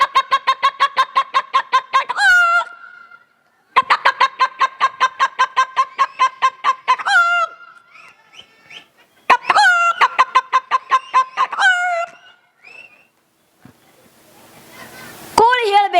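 A comedian doing mimicry imitates a hen with his voice, rapid runs of loud staccato clucks in three long bursts, each ending in a rising squawk, with short pauses and a brief laugh-like trill at the end.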